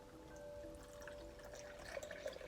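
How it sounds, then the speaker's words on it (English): A thin stream of water pours into a bowl of flour for sourdough, a faint, soft trickle that runs steadily with a few small splashes near the end. "Then I added the water,"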